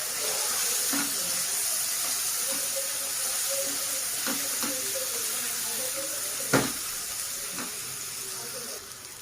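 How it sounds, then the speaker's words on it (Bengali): Water from a rinsed spice bowl pours into sizzling masala in a pan, a steady broad hiss and bubbling close by with a few soft knocks and one sharp clink, no speech heard. "একটু জল দিয়ে দেবো মশলার বাটি ধোয়া"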